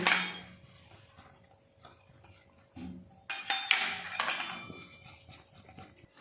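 Small oiled bowls for a semolina recipe clink and knock against each other and a surface as they are set aside, light close rattles and taps in scattered bursts.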